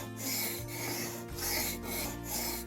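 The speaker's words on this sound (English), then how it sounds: "work it just slightly across the stone like that" A plane blade is worked back and forth across a sharpening stone, giving steady rhythmic rasping strokes, close and fairly loud, with no talking.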